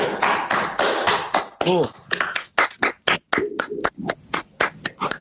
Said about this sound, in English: I'm clapping for him now.